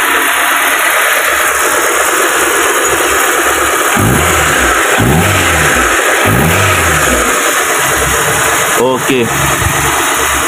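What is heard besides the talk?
car engine revving after ignition coil replacement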